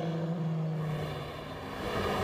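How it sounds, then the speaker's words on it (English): A 2008 Le Mans race car's transmission produces a steady mechanical whine and hum alongside rumbling drivetrain and road noise, heard continuously without talking. "So the transmission noise."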